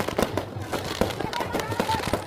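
Festival fireworks at night burst in a quick series of sharp bangs and crackles, repeating roughly every few tenths of a second over a continuous crowd din, with brass band music from the celebration faintly mixed in.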